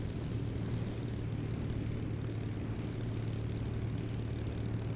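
Steady propeller-aircraft engine drone from a flight simulator game, a continuous, even hum with a low rumble that holds at a constant level throughout, with no talk over it.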